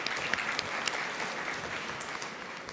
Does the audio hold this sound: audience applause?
yes